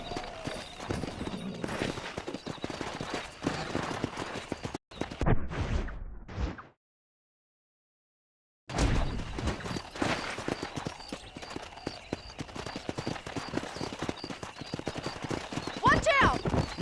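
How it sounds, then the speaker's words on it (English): Wild horses in the Red Dead Redemption video game, hooves clip-clopping rapidly under neighs and whinnies. Talk runs over most of it, and the sound drops to silence for a couple of seconds midway. "there's a pack of wild horses nearby"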